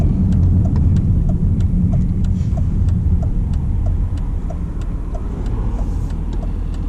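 A 2003 Range Rover diesel drives through a tunnel, its engine a steady close rumble with faint regular ticks over a constant road drone, no talk.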